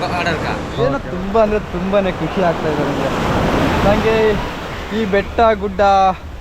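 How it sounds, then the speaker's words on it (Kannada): Sea waves break on Digha beach in West Bengal with a steady, loud wash of surf and wind, while someone talks over it close by. "ಈ ಸಮುದ್ರ ಅಲೆಗಳು ಬಂದು ನನ್ನ ಟಚ್ ಮಾಡ್ತಾವಲ್ಲ"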